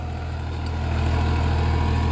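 A Farmtrac 45 tractor of 45 HP, older model, pulls a 16-disc harrow through sandy farmland, its engine a steady, close, droning rumble with no talk over it.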